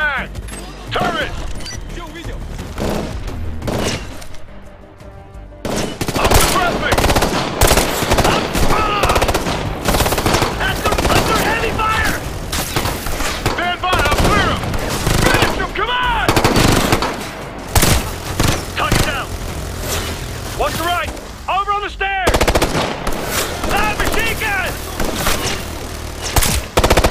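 Bursts of rapid turret machine-gun fire rattle loudly in the shooter game Ghost Recon Future Soldier, mixed with other gunfire and shouted voices over sustained battle noise.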